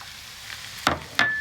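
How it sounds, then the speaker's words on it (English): A pan sizzles while Marry Me chicken pasta cooks, a steady hiss under two sharp bursts of crackling, close and fairly loud, with no talking. "Starting to sizzle up here."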